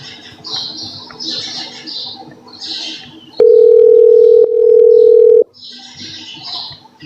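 A telephone tone rings loud and steady for about two seconds, briefly breaks, then continues about a second more, cutting over a background of chirping birds.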